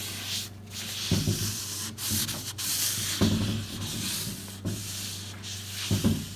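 A cloth rubs dark walnut stain off a 1940 Zenith wooden radio cabinet in repeated close, steady wiping strokes, a soft scrubbing texture with brief pauses between passes.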